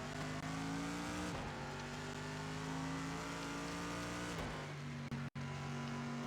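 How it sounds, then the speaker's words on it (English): A GT3 race car engine in Project Cars 2 drones at high revs, with clear downshifts where the pitch drops and jumps back up, loud and continuous until a brief cut near the end. "Stop downshifting to second"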